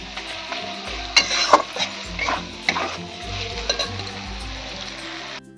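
Chicken skin sizzles and fries in its own rendered fat in a pan with a little oil, a steady close crackle broken by clinks and scrapes of a stirring spoon against the pan.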